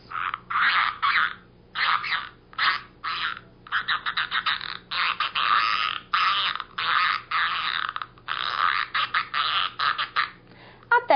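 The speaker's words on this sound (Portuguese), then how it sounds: "escutávamos apenas a conversa dos sapos" Frogs at a lagoon in the middle of a forest croak loudly and close by in rapid, irregular bursts, some calls running together into long rattling stretches with brief pauses between them.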